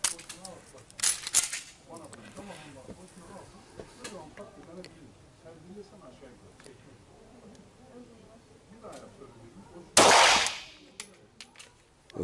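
Walther PPS pistol loaded with five rounds, fired on a range: one sharp report near the start and a much louder, close blast near the end, with talking in between.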